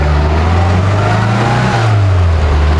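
A 1966 Austin Mini Moke's small engine and exhaust, a loud, steady drone up close with a rising pitch that dips and shifts midway as it changes speed, no talking.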